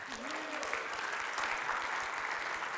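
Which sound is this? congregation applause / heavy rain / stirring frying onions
congregation applause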